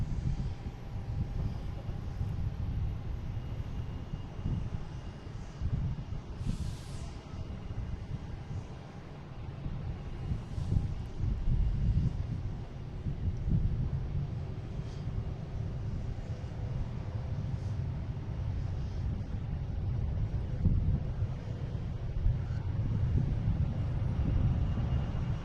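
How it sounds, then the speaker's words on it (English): A Southwest airliner takes off at Boston Logan, its jet engines a steady, loud roar with wind buffeting the microphone, the rumble holding for the full stretch without fading. "We got Southwest taking off"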